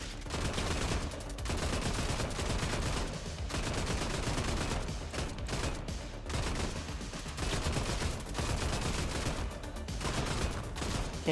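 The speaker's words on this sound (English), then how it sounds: "I forgot about the silly burst fire mode on these." A burst-fire weapon in the mech video game Brigador fires loud, dense volleys of rapid shots, grouped into repeated bursts broken by short gaps, with no talking over them.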